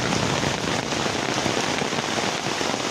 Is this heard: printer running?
no